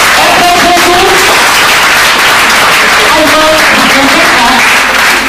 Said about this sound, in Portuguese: As palmas para o Senhor. Mais forte.